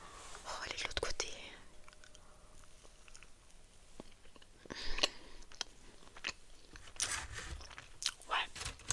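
Close, soft chewing and crunching of Milka chocolate muffins, with moist mouth sounds and small bites repeating irregularly, while a woman whispers in French in between.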